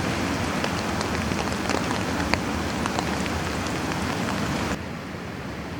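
Rain falls steadily on a misty mountain camp during the rainy season, a dense close patter with scattered sharper drops, continuing until it abruptly softens near the end.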